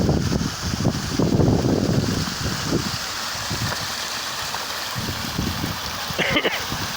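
A Scottish stream's waterfall pours into a loch with a steady rush of water, partly buffeted by wind noise, while a person speaks briefly over it.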